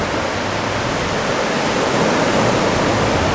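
Ocean waves roll onto a quiet beach on the Riviera Nayarit, a loud, steady broadband wash of surf that never lets up, with no talk.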